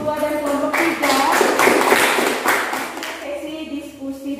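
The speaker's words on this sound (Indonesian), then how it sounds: "berikan tepuk tangan untuk kelompok 2 dan kelompok 3" Classroom students clap for two discussion groups. A brief burst of clapping rises and falls over a few seconds, with a teacher's voice audible before and after.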